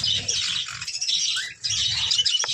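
Busy chirping and tweeting from several small pet birds close by indoors, rapid overlapping calls with a brief lull midway.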